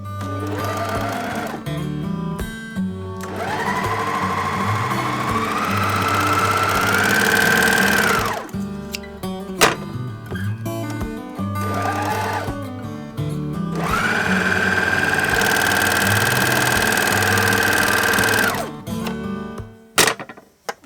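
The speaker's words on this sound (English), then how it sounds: "I use serger to sew knits, but you can also use a sewing machine." A serger stitches stretchy knit fabric for a vest, its motor whirring loudly and steadily in two long runs separated by short pauses with a few clicks and thumps, no one talking.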